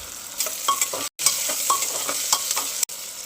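Chopped onion and tomatoes fry with cumin and mustard seeds in a pan, a steady close sizzle broken by scraping stirs, with two brief cutouts and no talking.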